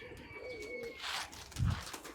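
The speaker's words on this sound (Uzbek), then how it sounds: "shu holiga o'ynayapti bu kaptari" Pigeons kept in a backyard loft in Navoi, one tumbling in flight after a hawk attack, give soft low coos that swell briefly near the end, with faint chirps and background noise throughout.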